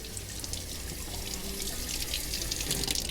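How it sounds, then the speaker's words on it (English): Tap water runs steadily into a glass jar of radish sprouts, a continuous close splashing hiss that stays even throughout with no talking. "you're going to fill it about halfway with water and drain the water"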